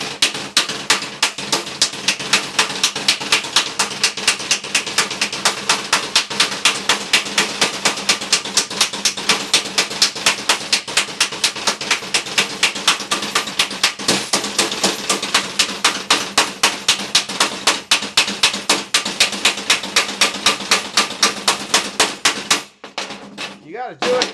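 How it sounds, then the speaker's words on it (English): Rapid, evenly spaced metallic hammer blows on a rusty junk saw blade ring out close by, dozens in a steady rhythm, pausing briefly near the end before a few more strikes. "You got to hammer the crap out of it."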